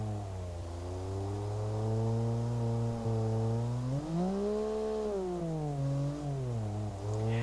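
A tiny, low-powered car of roughly 90 horsepower revs its engine in the BeamNG.Drive driving game, the pitch rising, falling and swelling again in a smooth, buzzy drone with no talk.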